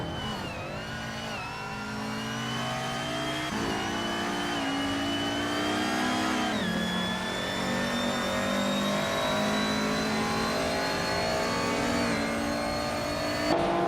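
Retro street cars race around Donington Park in a racing video game, engines revving and shifting gears continuously, several cars audible at once with rising and falling pitch, loud and steady throughout.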